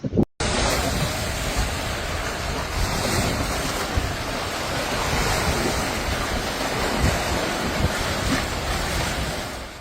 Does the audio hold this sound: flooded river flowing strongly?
yes